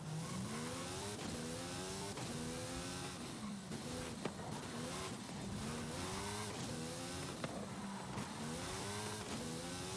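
A race car in Forza Horizon 5, capable of 400 km/h, laps Eagle Forest Raceway with a loud, continuous engine roar that rises and falls through repeated gear shifts and revs, with no talking.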